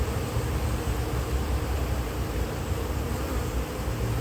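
Honeybees at an open hive during a beekeeper's inspection of small colonies being prepared for winter, a steady low droning buzz close by, continuous and even throughout with no voices.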